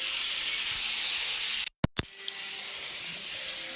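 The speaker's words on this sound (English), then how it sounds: "sauteed potatoes with onions and jalapenos" Potatoes with onions and jalapenos sauté in a pan with a steady, soft sizzling hiss that drops out briefly and then resumes with a faint clink.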